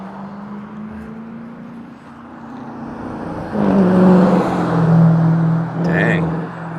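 A car drives past on a street in Alhambra, Los Angeles, its engine hum rising loud and close before fading, over a quieter low drone of traffic.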